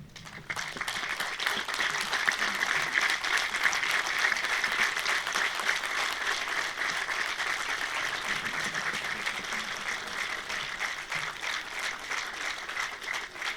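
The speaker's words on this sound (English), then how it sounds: "I'll request this whole, the audience, to stand up and applaud for them" Sustained applause from a standing audience honoring presenters at a formal event with the President of Azad Jammu Kashmir, a steady dense wash of many hands clapping without pause, moderately loud and even throughout.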